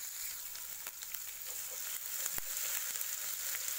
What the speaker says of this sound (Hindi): इसको हम 2-3 मिनट के लिए सौते कर लेंगे